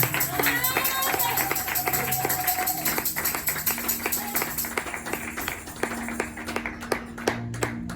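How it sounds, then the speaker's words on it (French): A church congregation claps for Jesus during worship, with sharp rhythmic claps and taps over sustained music tones and crowd voices, close and steady throughout. "Acclame Jésus encore s'il te plaît"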